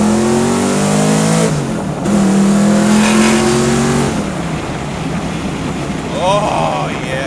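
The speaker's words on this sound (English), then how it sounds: "let's try out second gear" A 1993 Ford Mustang Foxbody accelerates hard in second gear, its engine note climbing loud and close, then lifting off with pops and burbles, while a voice speaks briefly under the engine.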